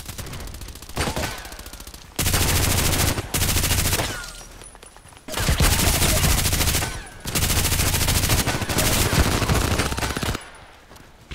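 Bursts of RPKT tactical machine gun fire in the shooter game Contract Wars, several long loud sustained volleys separated by short pauses, with no talking.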